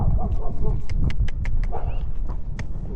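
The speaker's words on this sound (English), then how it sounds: "a dog ran out from a house" A dog barks in short, sharp yips near a house on a village street, mixed with horse hoofbeats clip-clopping close by and a rider's voice speaking over them.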